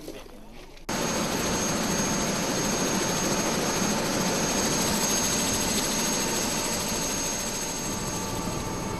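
Loud, steady roar of a forest rangers' helicopter flying over the dense forests of Les Gavarres, Catalonia, with a constant engine whine and rotor rumble that starts abruptly and persists.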